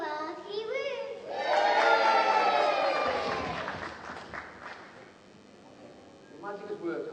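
Children in a live magic show audience give a big cheer as a trick happens, a loud swelling shout of young voices with some clapping that fades out, followed by a voice talking.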